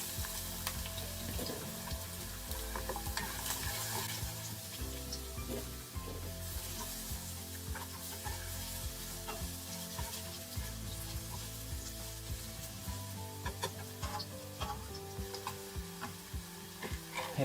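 Minced garlic sizzling in a frying pan of oil alongside thickly sliced garlic for aglio e olio, a steady dense crackle with occasional stirring scrapes, close and continuous without talk.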